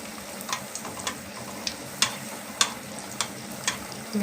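Rava paniyaram frying in oil in a paniyaram pan, giving a steady close sizzle broken by light, regular ticking pops that recur about every half second, with no talk.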